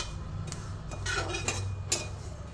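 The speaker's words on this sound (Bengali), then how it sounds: "কড়াইয়ের মধ্যে ভালো করে নেড়ে নেবো আমি" White sesame seeds stirred in a dry wok, with a spatula scraping and clinking against the metal in a few soft, irregular strokes over a low, steady background.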